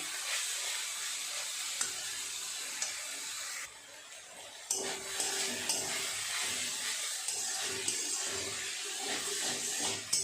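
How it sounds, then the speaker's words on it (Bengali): Drumstick flowers frying in a pan over low heat, a continuous soft sizzle with occasional light stirring clicks and a brief dip midway, steady and moderately quiet with no speech. "খুব ভালোভাবে এইভাবে নেড়ে নেড়ে ভেজে নিতে হবে।"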